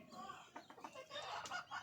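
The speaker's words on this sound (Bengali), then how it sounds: "এই যে আমার কোয়েল পাখির বাচ্চাগুলো" Newly hatched quail chicks, brooded under a hen, give a quick run of faint, high chirps and peeps close by, lasting under two seconds with no talk.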